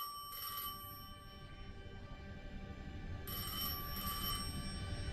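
A telephone rings in the video game Destiny 2: Edge of Fate, two bright electronic bell bursts separated by a pause over a constant low droning ambience, with no talking.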